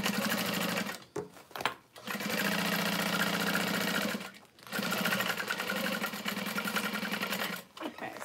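A sewing machine stitches the side seams of an Emily tote bag in long, steady motor runs broken by a few short pauses, close and fairly loud, with a voice talking at times.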